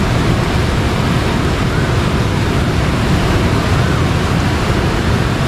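Fast-flowing river current after rain while fishing for tilapia, a loud, steady rushing roar of water, close and unbroken throughout with no talking.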